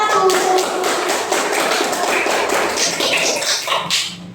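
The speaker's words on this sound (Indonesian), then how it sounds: "beri tepuk tangan dulu untuk kelompok 1" A classroom applauds a student group after its presentation: dense, steady clapping from many hands at close range, holding at an even level for several seconds with no voices over it.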